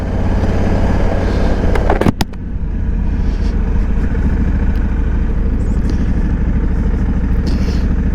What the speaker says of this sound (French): me voilà au volant d'une DCT, une moto boîte auto